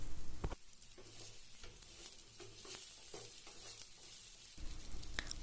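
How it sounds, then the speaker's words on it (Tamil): Okra pieces frying in oil in a pan, a steady close sizzle with occasional stirring scrapes and clinks, no voices. "கலர் சேஞ்ச் ஆகிற வரை ஃப்ரை பண்ணி எடுத்துக்கலாம்."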